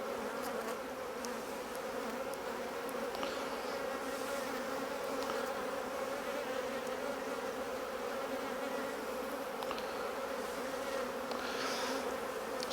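Dense, steady buzzing of many honeybees around a caged virgin queen, a continuous droning hum with no speech, at a moderate distance.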